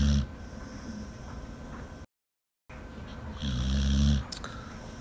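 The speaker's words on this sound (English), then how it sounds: "snoring right here with her eyes open" A dog snores nearby in rasping breaths with soft snorts; a louder snore swells near the end after a brief gap of silence.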